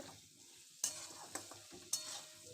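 Green peas cook in a pan for aloo dum with a faint, steady sizzle, broken by three sharp scrapes of a spatula stirring them. The sound is close and quiet, with no voices.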